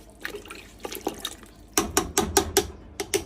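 Water is poured into a pot of mushroom bone broth with bones, celery, onion and carrots, a series of splashing, dripping pulses that grow steadier and more regular in the second half, close and fairly loud.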